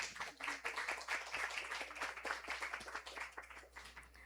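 A festival audience at the FLIP literary event gives a speaker a round of applause: quiet, steady scattered clapping from many hands, sustained throughout with no voices standing out.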